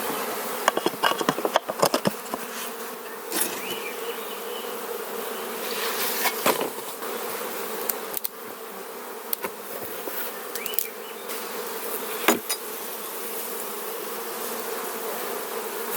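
Honeybees buzz steadily at a beehive, a close, dense, continuous drone with scattered louder passes of individual bees flying near, and no voices.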